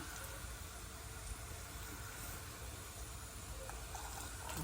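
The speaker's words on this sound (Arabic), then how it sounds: "صافي هنا غندير الماء الساخن هكا" Hot water poured into a cooking pot for an oven-baked meat and vegetable dish makes a steady, soft, continuous gushing rush throughout, fairly faint and alone with no voices.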